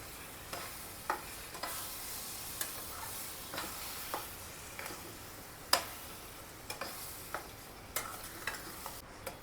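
Spoon stirring mango juice into semolina sheera in a cooking pan, giving soft repeated scraping ticks at an irregular steady rhythm with faint sizzling underneath and no talk.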